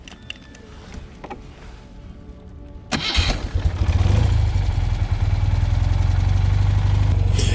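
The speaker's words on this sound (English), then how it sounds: "Half a turn, rev it, and then when you get to the right adjustment and the engine is accelerating away nicely" A BMW R75/6 air-cooled boxer motorcycle engine catches and revs up after a quiet start, settling into a loud, steady, throbbing roar close by during carburetor tuning.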